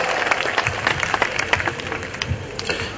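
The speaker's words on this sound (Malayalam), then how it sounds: "നന്നായി കൈയടിക്കൂ" Audience clapping at a community stage event with the Seven Beats Orchestra in Thrissur, a steady wash of many hands with scattered sharper claps, moderately close and continuous throughout.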